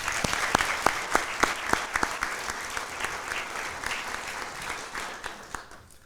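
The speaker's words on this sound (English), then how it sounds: "we would first like to give a round of applause to Cadillac's ER staff" A room applauds the ER staff of Cadillac's hospital at an award gathering, moderate clapping with a few sharp nearby claps standing out early before the sound gradually tapers off.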